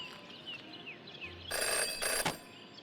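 A telephone rings in the detective video game Jenny LeClue, a short burst of bright electronic ringing against a quiet backdrop of soft game ambience.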